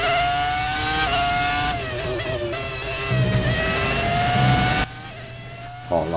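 A 2004 Ferrari Formula One car's V10 in the F1 2019 racing game screams at high pitch, its tone stepping through gear shifts and revs, loud and close, with a sudden drop in level near the end and no voices.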